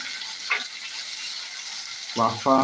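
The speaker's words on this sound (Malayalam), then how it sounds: "തക്കാളി ഇട്ട് കൊടുക്കാം കേട്ടോ തക്കാളി ഇട്ട് കൊടുക്കുന്നത്" Tomatoes dropped into a pan of fish curry set off a steady, moderately loud sizzle, with a brief voice breaking in near the end.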